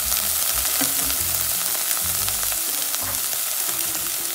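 Almonds sizzle steadily in a hot pan while being stirred, with a constant close frying hiss and repeated scraping strokes of the utensil running throughout.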